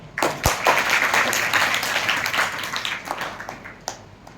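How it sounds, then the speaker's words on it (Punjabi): Applause for a supporter who arranges refreshments at a summer study camp, a crowd clapping steadily and fairly loudly for a few seconds with no talk over it. "ਇਹਨਾਂ ਲਈ ਵੀ ਇੱਕ ਤਾੜੀ"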